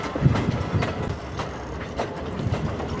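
A commuter train runs along a railway in Nairobi, giving a steady, loud rolling rumble with faint rhythmic wheel clatter throughout.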